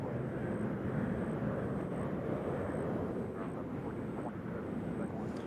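Jet aircraft rumbling at Nashville International Airport, a steady broad roar heard from a distance with a faint regular beeping above it.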